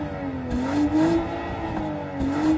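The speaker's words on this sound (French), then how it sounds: "On va écouter le son du moteur parce que franchement, il sonne vraiment bien." The engine of a BMW X5 50e hybrid SUV revs up and down repeatedly, its pitch rising and falling in a few surges, close and fairly loud with no talking.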